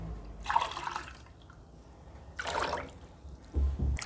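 Water poured freely over carrots in a cooking vessel comes in two close, splashing bursts separated by a short pause, followed by a few low thuds, with no talking.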